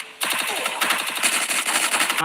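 Rapid automatic gunfire from a Free Fire Max battle royale match rattles in fast continuous bursts, loud and close, running almost the whole time with only a brief gap at the start.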